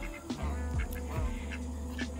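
A Toulouse goose on a farm gives several short nasal calls in quick succession, close and fairly loud, with no talking.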